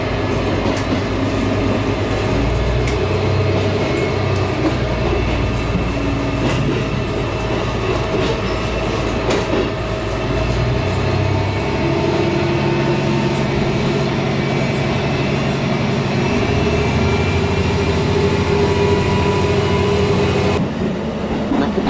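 A JR Central diesel railcar on the Meisho Line service runs steadily along the tracks near Matsusaka, with a continuous low engine drone and rolling wheel noise, ending with a brief quieter moment.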